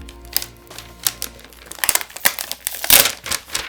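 Close, irregular crinkling and crackling from a roll of colour-coded coloured lighting gel filters being handled, with sharp rustly bursts and no voices.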